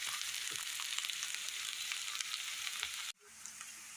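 Onions fry in hot oil for an Assamese pumpkin and fish dish, a steady close sizzle and crackle that cuts off abruptly near the end, leaving quieter frying behind.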